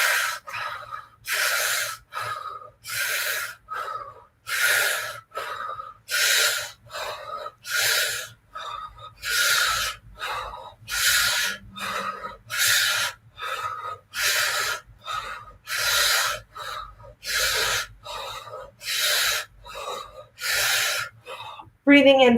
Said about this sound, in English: Breathing in fully and completely.